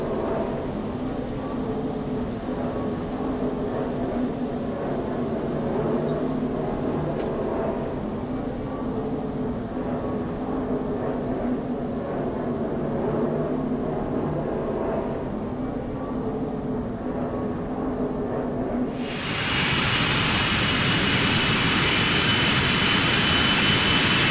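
Jet airliner engines spool up to full takeoff thrust at Athens International Airport, a steady loud roar held close by, then surging into a brighter, harsher blast toward the end.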